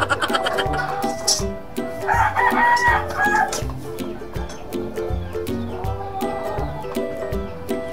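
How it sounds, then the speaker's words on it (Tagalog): A rooster crows once at moderate distance, a drawn-out strained call, amid sharp clacking and tapping sounds and a steady mechanical tone in the background. "Ah, manok."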